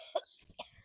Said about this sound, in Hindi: खांसी के बहाना कैले हैं